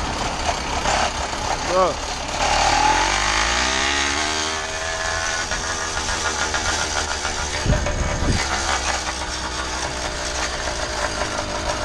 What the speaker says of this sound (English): God damn, it's a lot of cars coming.